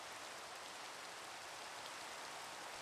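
Rain falling in the Pixelmon mod of Minecraft, heard as a faint, steady, hissing wash of rainfall with no voices or other sounds.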